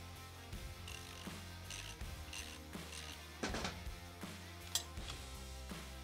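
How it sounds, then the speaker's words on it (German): A ratchet with a 17 mm socket loosening a nut on a Sachs 50/2 moped engine, a series of close, quiet clicking strokes over a low steady hum. "Nun kann ich hier mit einer Ratsche und einer 17er Nuss das Ganze ganz bequem lösen."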